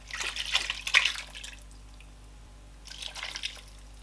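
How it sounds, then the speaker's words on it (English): Mackerel fish stock poured into a pot for a bitterleaf soup, two short bursts of splashing liquid trickling in, close and fairly soft, with a quiet pause between. "So now I'm going to add the mackerel fish stock."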